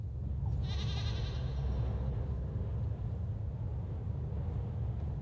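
A goat bleats once in the Little Goody Two Shoes video game, a short nasal cry near the start over a steady low ambient rumble.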